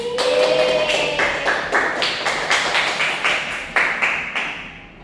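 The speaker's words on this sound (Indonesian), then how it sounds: "Tepuk tangan." Students in a classroom clap their hands together in a patterned rhythm, sharp close claps grouped in quick bursts with brief gaps, loud and mostly alone.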